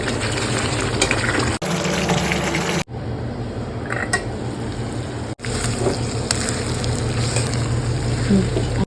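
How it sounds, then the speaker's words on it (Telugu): Chicken pieces sizzle and fry in a pan, a loud continuous crackle and hiss close by, broken by brief pauses when the lid is lifted or set down. "ఇది మొత్తం ఇంకా డ్రై అయిపోయే వరకు ఫ్రై చేసుకోవాలి"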